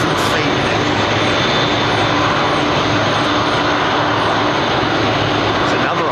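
A large airliner, an old Airbus A330, arriving at London Heathrow, its broad jet roar steady and loud throughout, with a faint voice now and then under the engine noise.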